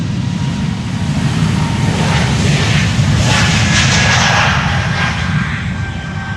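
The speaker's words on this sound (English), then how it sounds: "This is Bulgaria flight 462 going to Sofia in Bulgaria." A Bulgaria Air jet departing for Sofia thunders close by on takeoff from the Polderbaan runway at Amsterdam Schiphol, a loud, continuous engine roar with a rising high whine.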